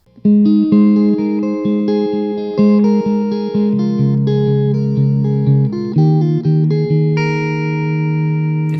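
A fingerpicked guitar plays a melody and chords over a steady thumbed bass line, bright and close with a light effect on the tone.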